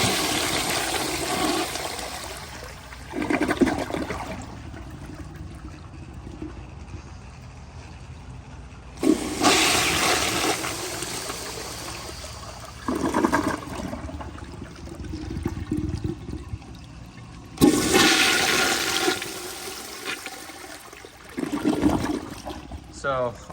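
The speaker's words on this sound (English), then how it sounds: "So here's another flush." A 1942 Standard Modernus toilet on a flushometer flushes three times, each a loud rushing surge of water followed by trickling refill, with a person talking faintly between flushes.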